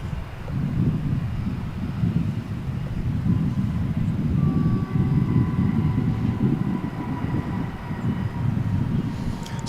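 Passenger aircraft at DFW International Airport idle and taxi with a steady broadband roar, a low rumble mixed with wind buffeting on the microphone, and a faint whining engine tone rising partway through; no voices.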